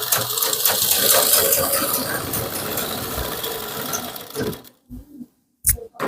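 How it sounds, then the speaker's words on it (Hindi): A sewing machine runs steadily along the edge of a kurti's fabric for about four and a half seconds, a close, dense mechanical whir with rapid needle ticking, then stops and gives a few short bursts before falling quiet. "इसके किनारे किनारे हमको सिलाई लगा लेना है।"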